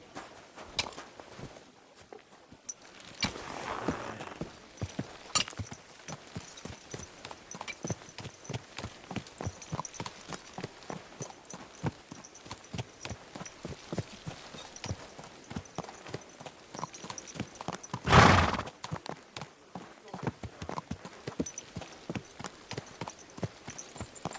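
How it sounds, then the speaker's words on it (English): Horse hooves clip-clop in a steady walking rhythm in the video game Kingdom Come Deliverance 2, moderately close and fairly quiet, with one brief louder burst near the end and no talk. "That looks like a bloody expensive horse."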